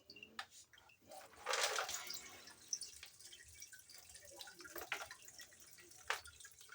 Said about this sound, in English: You drain the water out completely.